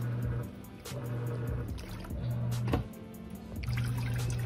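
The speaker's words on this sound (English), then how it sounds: "So this is how the water drains." A SAFEPLUS portable automatic washing machine drains its water, with gurgling, trickling and splashing pulses close by and a low hum coming and going in bursts.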